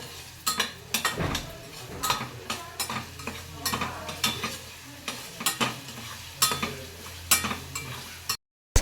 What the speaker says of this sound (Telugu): రెండు కలపాలి. ఎప్పుడు బాగా కలపాలి.